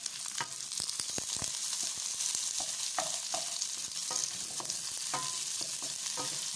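Garlic and onion fry in a little olive oil for chop suey, a constant crackling sizzle broken by repeated sharp scrapes and taps of a utensil stirring the pan.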